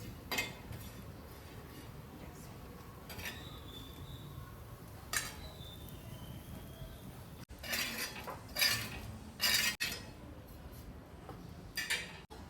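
Onions roasting in a pan while being stirred with a metal utensil, scattered scraping clinks and taps over a quiet background, with a denser cluster of sharper knocks near the end and no talking.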